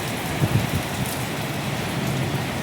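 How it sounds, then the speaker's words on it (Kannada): Steady rain falls in gusty wind, a dense, even hiss of drops striking surfaces nearby, with a few louder patters and no voices. "ಮಳೆ ಬರ್ತಾ ಇದೆ"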